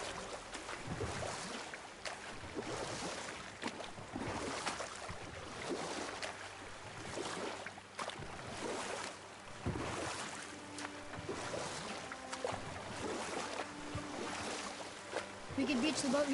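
A boat moving across water in God of War, with continuous splashing and lapping waves and a low hull rumble that stays fairly quiet and steady throughout.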